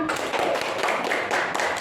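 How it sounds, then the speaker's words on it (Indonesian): A fourth-grade primary school class in Waisai claps hands together: a brief, busy flurry of overlapping, uneven claps and taps from many children, loud and close, with no speech over it. "Tepuk tangan."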